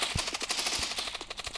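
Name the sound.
gunfire in the mobile video game Block Post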